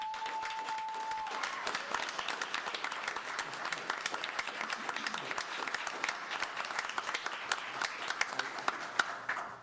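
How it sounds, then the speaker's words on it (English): Applause from a commission meeting audience, steady dense clapping that starts after a brief tone and holds through to the end, with little talk over it. "if we can all get a round of applause for them"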